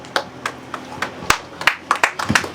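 Scattered hand claps from a small group at a birthday celebration, uneven and close, building into a denser run of claps with brief murmurs around them.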